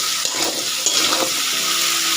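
Kosala saag leaves and vegetables frying in hot oil in a pan, a steady close sizzle and crackle with no voices.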